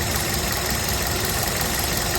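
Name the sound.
Kia Rio 2012 engine idling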